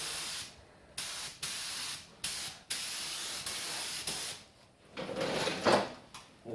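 An old 1950s engine is spray painted in a series of hissing bursts from a spray can, short sprays separated by brief pauses, then a longer blast near the end, close and steady.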